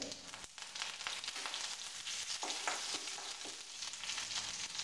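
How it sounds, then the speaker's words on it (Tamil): Mustard seeds, dried red chillies and curry leaves tempering in hot oil for mint rasam: a faint, continuous crackling sizzle with small pops throughout; no voices. "இப்போ இந்த கடுகும் வரமிளகாயும் போட்டு தாளிச்சிக்கலாம் கருவேப்பிலை போடுறேன்"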